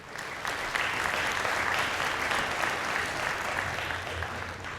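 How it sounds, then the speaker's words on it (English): Commencement crowd at Missouri S&T claps for the graduates' supporters, a sustained, full round of applause from a large audience in a big hall, steady throughout with no pauses. "How about a round of applause for them as well?"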